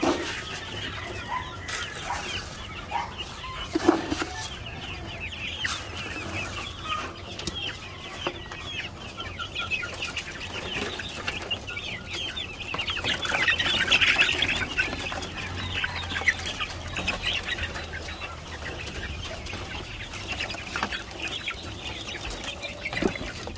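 Hungry baby chicks chirping and peeping in a farm brooder, a continuous busy chorus of small high calls, moderately faint and close, with no talking.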